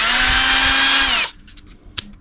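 A Sealey SV10.8 cordless drill runs at low speed with a steady whine for just over a second, then stops, leaving faint handling clicks nearby.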